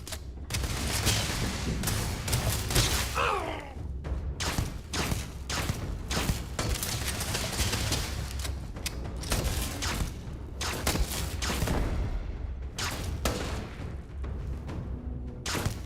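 Sci-fi firefight in the Starfield video game: dense, loud bursts of gunfire crackle in rapid, irregular volleys throughout, with a few heavier booms and no talk.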